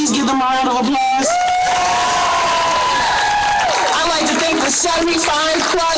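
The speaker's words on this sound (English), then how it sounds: "Please give them a round of applause." A crowd at a One Billion Rising rally in Pittsburgh cheers and applauds loudly, with whoops and a long sustained shout rising over continuous clapping, and voices mixed in throughout.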